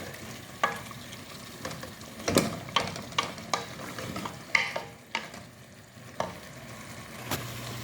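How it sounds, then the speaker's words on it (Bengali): Arabian kabsa cooks in a pan with a constant sizzle, while a utensil stirs and scrapes against the metal in irregular, close knocks. "তো ক্যাপসা রান্না করতেছি"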